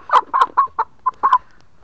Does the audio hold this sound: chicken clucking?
yes